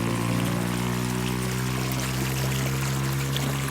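Water pours steadily through a UV filter unit feeding a koi fish pond, a loud, continuous close rushing flow with no talk.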